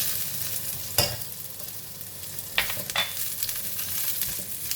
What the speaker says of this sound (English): I am putting in the onions.